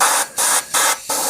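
Airbrush running at around 30 psi, blasting air in three loud hissing bursts of even length separated by brief pauses, close up with no talking.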